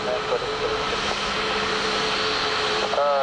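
Aircraft engine noise from a plane approaching Dublin Airport, a steady broadband roar with a rising whine near the end, heard at a distance throughout.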